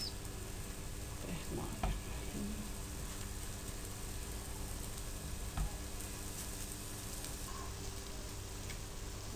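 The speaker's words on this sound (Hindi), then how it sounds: "मैं कुछ कबाब बग़ैर अंडे के भी फ्राई करने लगी हूँ" Shami kababs made without egg frying in a pan, a steady soft sizzle running throughout with a couple of faint clinks, fairly quiet and with no voices.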